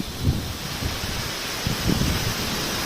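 A dense, steady roar of heavy rain with gusting wind buffeting close to the microphone, low rumbles rising and falling.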